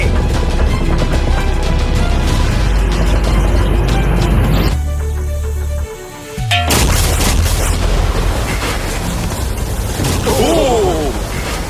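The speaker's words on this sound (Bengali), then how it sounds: "এই বিস্ফোরণটা কিন্তু বিশাল হতে চলেছে।" A huge sea bomb blows up beside a yacht in a video game, a loud, deep booming blast with heavy low rumble that cuts off abruptly, then gives way to dense, chaotic game noise.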